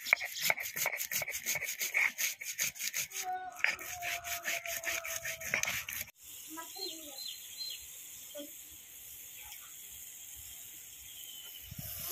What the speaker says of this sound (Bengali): এবার সরিষা আর পোস্ত একসাথে বেটে নেব।